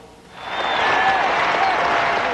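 A crowd of more than 3,000 people on their feet cheers and applauds, a dense, steady roar of clapping and whistles that swells in after a quiet start and holds loud to the end.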